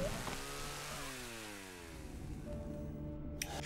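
A chainsaw engine in the horror game Cry of Fear revs and whines, its pitch sweeping down then holding steady, loud and close throughout with no talking.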